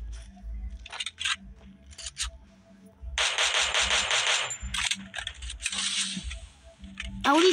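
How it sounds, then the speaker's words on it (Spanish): Sharp bursts of firework rockets crackle and bang in loud clusters, with brief quieter gaps and scattered sounds in between. "aquí donde yo vivo truenan mucho los cohetes"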